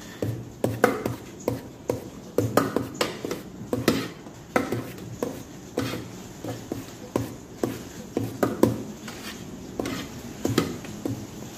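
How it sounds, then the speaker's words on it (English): Chopped fruit cake batter with butter and sugar being stirred in a big pot, a steady run of wet clanks and scrapes against the pot, close and loud, with no talking. "to be mixing it in my big old pot right here"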